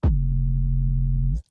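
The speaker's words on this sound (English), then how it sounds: "So let's listen to our sub bass or 808" A deep 808 sub bass from a UK drill beat made in Ableton plays as a single loud, sustained, pure low tone lasting just over a second before it cuts off abruptly.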